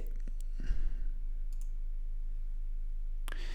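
A computer mouse clicked in software setup, a few sharp close clicks spaced apart over a steady low background hum.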